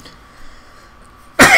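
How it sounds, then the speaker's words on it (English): A single harsh cough bursts out close and loud at the very end, after a stretch of near silence. "I'm coughing."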